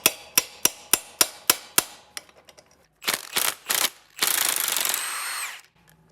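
A socket ratchet clicks in a quick even run of about eight sharp ticks on a rusty 12 mm exhaust nut of a VW Type 4 engine, followed by scattered metal clanks and a longer grinding rasp.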